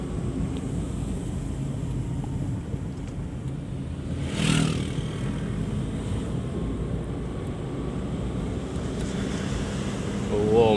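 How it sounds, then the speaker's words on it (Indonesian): Ocean waves break on a shore at a coastal village, a continuous rushing wash with wind buffeting the microphone and one louder surge midway. "Oh, ombaknya."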